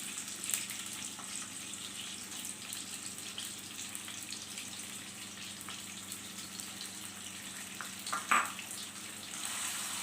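Finely chopped onions fry in ghee for a dhaba-style mash ki daal (urad dal), giving a steady, close sizzle with a brief louder crackle near the end.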